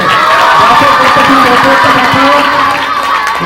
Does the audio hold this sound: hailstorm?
no